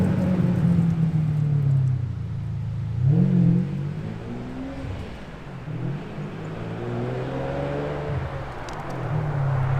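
A Ferrari 456 GT engine pulls steadily on smooth tarmac in sport mode, a loud continuous rumble with rising and falling revs and one brief sharper surge of acceleration, no voices over it.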